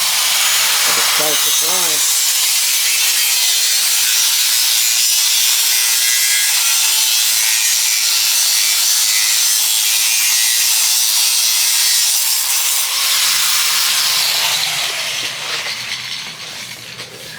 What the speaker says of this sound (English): So James is over here grinding them down.